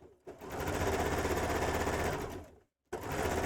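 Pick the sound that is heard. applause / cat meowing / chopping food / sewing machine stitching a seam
sewing machine stitching a seam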